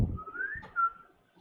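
A person whistles a single rising then falling note, fairly close and clear, with a short second tone after it, at an outdoor cooking spot in Thailand, and a little background clatter at the start.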